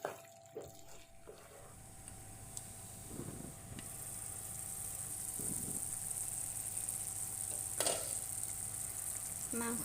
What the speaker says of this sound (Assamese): এতিয়া মই মাংসখিনি মছলাৰ লগত মিলি যোৱালৈকে ভাজি থাকিম।